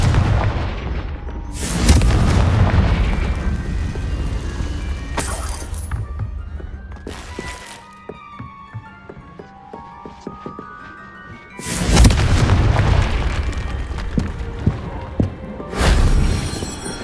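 Confringo blasting spells from Hogwarts Legacy explode in loud booming bursts, several heavy blasts spaced across the stretch with crackling debris and quieter rattles between them, while a voice shouts spell names.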